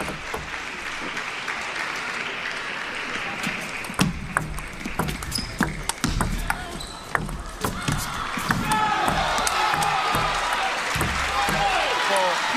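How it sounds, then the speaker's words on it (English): Arena crowd at a table tennis women's singles match chants the player Sun Yingsha's name, a steady roaring swell that grows louder, with sharp ball and paddle knocks and a commentator talking over it. "The crowd now growing louder, chanting the name of Sun Yingsha."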